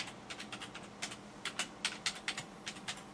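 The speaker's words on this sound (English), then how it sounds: "we type D light and your serial number" Typing on a computer keyboard while entering commands to dump flash from an Xbox 360 Lite-on drive: a quiet, irregular run of about a dozen close key clicks alone.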